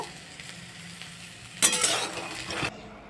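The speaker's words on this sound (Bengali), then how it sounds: "সবথেকে প্রথমে বাদামগুলোকে ভেজে নিচ্ছি" Peanuts dry-roasting in a bare pan give a sudden burst of scraping, rattling sizzle for about a second, over a quiet kitchen background, then cut off abruptly.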